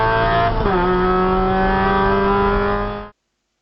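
A car at speed on the Phillip Island GP circuit gives a loud, sustained engine drone close by, its pitch dropping sharply as it shifts or lifts off, then holding steady before cutting off abruptly.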